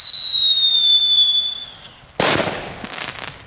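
A category 1 firework gives a high whistling screech that fades, then a loud sharp bang bursts out, followed by a second crackling pop.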